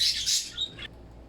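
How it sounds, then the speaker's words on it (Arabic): Pet budgerigars kept indoors chirp in a quick, bright burst of tweets and squawks, close and fairly loud, then fall quiet. "معليش ازعجون الطيور"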